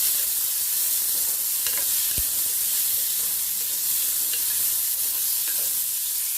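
Garlic and tomato sautéing in a pan for a Kongu-style thattai payaru rice dish: a steady, close sizzle with occasional stirring scrapes and soft clicks, no voices.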